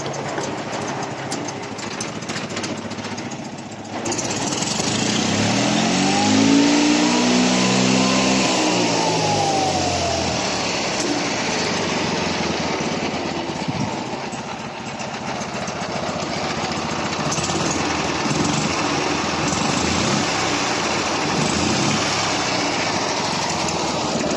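Prykarpatets mini tractor engine runs steadily close by, a continuous mechanical drone with a brief rising and falling whine partway through, holding a fairly constant level throughout.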